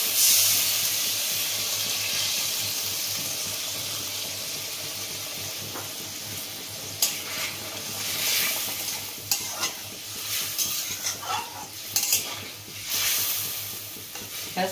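Bengali hilsa malai curry with coconut milk simmering in a pan, a soft continuous bubbling and hiss with occasional louder pops and sizzles, fairly quiet and close.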